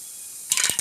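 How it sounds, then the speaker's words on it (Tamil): After a moment of quiet hiss, mustard and cumin seeds start spluttering in hot oil with a few quick, sharp crackling pops up close. "கடுகு சீரகம்லாம் நல்லா வெடிச்சு வந்துடுச்சு"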